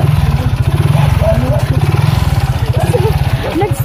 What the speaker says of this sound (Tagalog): Nag-stuck yung motor namin dito sa daan kasi medyo yung daan pang four wheels siya.